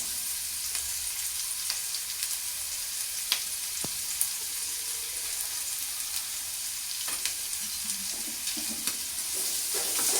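Capsicum (shimla mirch) sabzi frying in a pan with turmeric and salt, giving a steady close sizzle through the whole stretch while a spoon scrapes and stirs now and then.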